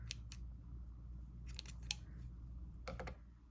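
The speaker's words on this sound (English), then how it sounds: "we are going to cut our yarn because we're done with this color" Scissors snip knitting yarn, finishing one color in a cabled project, with a few crisp close cuts in small clusters over a low background hum and no talking.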